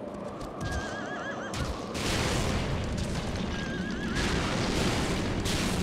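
A horse neighs twice in the video game Shadow of the Colossus, two short wavering whinnies over a steady low rumble of ambient game sound, with a deeper boom shifting the background midway.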